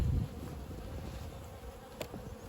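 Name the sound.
honey bees buzzing around an open hive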